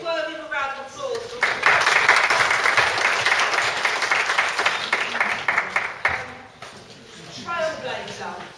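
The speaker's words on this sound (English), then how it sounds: "Yes, it's worthy of a round of applause." A university audience at UEL breaks into a round of applause, dense clapping rising after a spoken introduction and continuing loudly for several seconds before fading as the speaker resumes talking.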